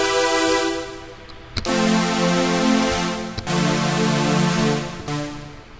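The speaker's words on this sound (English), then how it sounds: "it'll just come out as a unfiltered supersaw" Unfiltered supersaw synth lead from Native Instruments Massive with the filter off, a bright, buzzy sustained chord-like tone held for several seconds with a few sharp retriggered note changes, played alone.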